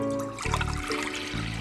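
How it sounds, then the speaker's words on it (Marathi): Water poured into a pressure cooker while making ragda, a short splashing, trickling gush in a kitchen that starts and stops in bursts, close and fairly quiet. "आणि मग त्याच्यात मी 2 कप पाणी टाकणार आहे."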